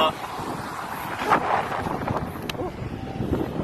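Strong wind buffeting the microphone along the Jeddah seaside corniche in Saudi Arabia, a rough continuous roar with gusts, heard under a man's speech.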